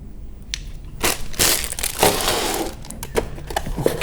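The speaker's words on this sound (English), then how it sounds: "Let me remove the laptop out from the white sleeve." An Acer Aspire 5 laptop slides out of its white protective sleeve with loud, close crinkling and rustling of the wrapping material, several crisp crackles set over a continuous scuffing rustle.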